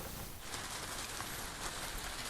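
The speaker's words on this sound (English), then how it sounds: "we've had a steady light rain for about an hour now." Steady, soft patter of light rain falling on a surface, a continuous even hiss with no voices.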